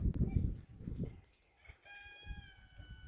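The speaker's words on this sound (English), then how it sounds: "I'm gonna start with that chicken right there." A hen pokes around a yard at an old family home, giving a few soft clucks and short calls among quiet rustling, close but faint.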